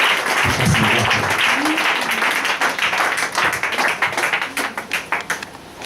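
Church congregation clapping during a Sunday service, a loud mass of applause that settles into rhythmic, slowing claps with voices faintly underneath.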